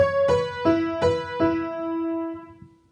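A piano plays four separate notes of a song in a slow, even sequence. Each note rings out and decays, the last one sustaining longest, with no voice over it.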